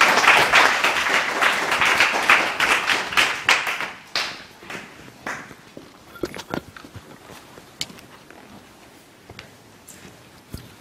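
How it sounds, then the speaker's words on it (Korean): An audience at a symposium claps, the applause loud and dense at first, then thinning to scattered claps and taps before fading out. "박수로 모시겠습니다."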